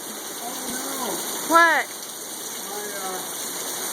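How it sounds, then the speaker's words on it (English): Rain falls in a July desert storm in Arizona, a steady wash of hissing patter across the whole clip. Voices speak briefly over it. "Rain in the desert."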